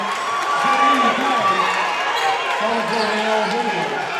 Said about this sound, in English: you hear the crowd starting to get into it here at Naster Gymnasium